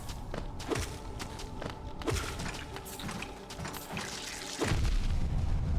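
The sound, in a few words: explosions dropped by enemies in the video game Hollow Knight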